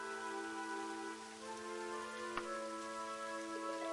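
Steady rain falls throughout a video game scene, a dense even hiss with sustained tonal game music layered underneath and one brief sharp click partway through, no voices.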